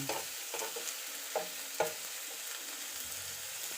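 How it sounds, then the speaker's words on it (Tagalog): Squash shoots and egg being stirred together in a frying pan, a steady sizzle with scattered scraping and clinking strokes from the utensil, close and moderately quiet, with no voices. "Mikos-mikos ang mga sangkap."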